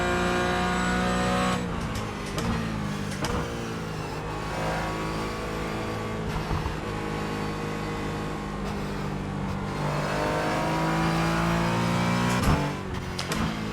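A Porsche 718 GT4 race car engine in the iRacing sim at Lime Rock Park drones steadily and close, its pitch climbing and falling through repeated gear changes and corners, with no talking.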